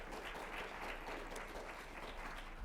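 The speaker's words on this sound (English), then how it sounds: "Let's give them another round of applause." An audience gives presenters at a talk on epilepsy care for older adults another round of applause, a faint, even patter of clapping that carries on without voices.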